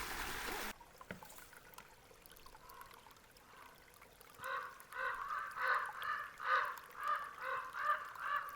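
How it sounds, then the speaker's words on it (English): Birds call in a quiet canyon, a run of rhythmic honking calls rising in the second half over a faint steady trickle of streaming water. "Just the sound of the streaming water and birds in the sky."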